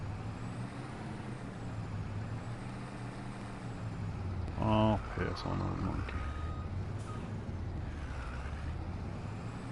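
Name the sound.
Bluebird bus engine in a farming video game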